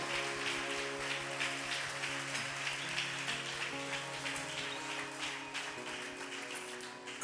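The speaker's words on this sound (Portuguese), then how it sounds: "Bem forte esse aplauso ao Senhor." A church congregation applauds during a communion service, a dense, even wash of clapping that holds steady throughout, with sustained music playing underneath.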